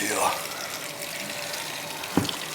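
Water runs through bathtub drain pipes in a house, a steady, broad rushing flow heard close up with one brief knock near the end.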